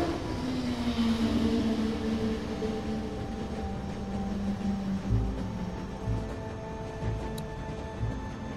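A train rolls along in The Walking Dead Telltale video game, its steady low rumble and whining tonal hum filling the scene, with a few heavier clunks of the cars toward the end and no talk.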